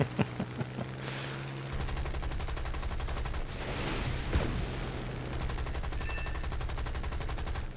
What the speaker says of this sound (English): I have many machine guns.